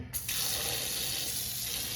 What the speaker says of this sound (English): And then we're going to cover it with water.